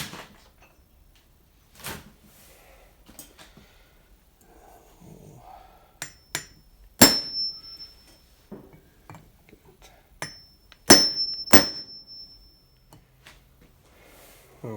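A hammer tapping a seal installer to seat seals in an Oliver 770 tractor hydraulic pump: scattered sharp metallic taps, a couple of them ringing clearly, close up, with soft handling clatter between them.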